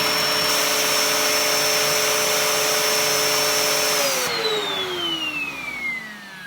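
A Dyson DC01 vacuum cleaner roars loudly with a high motor whine, then its pitch drops and the sound softens as air vents through the release valve, steady and close with no voices.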